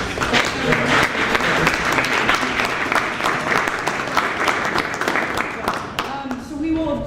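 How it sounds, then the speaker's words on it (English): Audience applause for the panelists at the Fix Our Ferries Regional Legislative Summit, a full room clapping steadily with some sharper individual claps, dying down near the end as a voice starts speaking. "Can we give a round of applause?"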